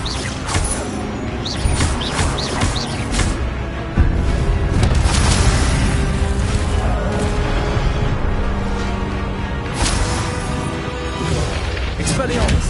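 Fire spell blasts from the Hogwarts Legacy game boom and crackle amid dense combat noise, with a sharp loud burst near the middle and steady rumbling effects throughout while a voice calls out spells.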